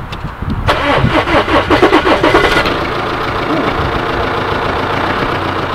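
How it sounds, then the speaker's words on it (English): A salvage-rebuilt Audi A5 engine cranks with a rapid rhythmic churning for about two seconds, then catches and settles into a loud, steady idle close by. "and then hopefully we can get the car started."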